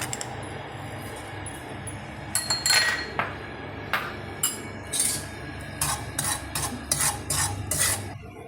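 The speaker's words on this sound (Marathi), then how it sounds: "दोन चमचे मीठ भाजून घ्यायचं" Salt is dry-roasted in a pan for raw mango pickle, heard as a run of irregular metallic scrapes and clinks of a spoon against the pan over a faint background hum, close and without speech.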